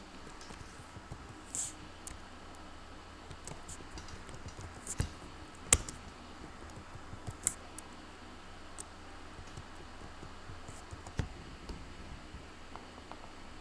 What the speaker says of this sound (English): let me simply just type them down here